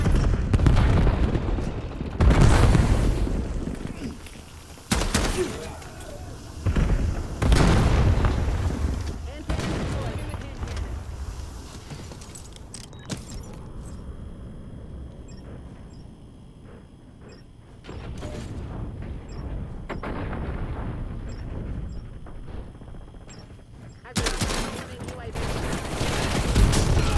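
Hand cannon strike in Call of Duty BO7 multiplayer, heavy booming blasts and rapid gunfire bursts repeating loudly, spaced by quieter stretches with faint electronic game tones.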